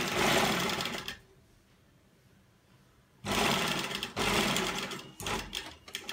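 An electric sewing machine runs in fast bursts while stitching an embroidered neck design along buckram, pausing for about two seconds before whirring again in shorter start-stop runs.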